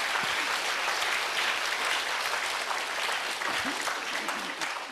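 A church congregation claps together in dense, sustained applause that fills the room, loud and even throughout before easing slightly at the end.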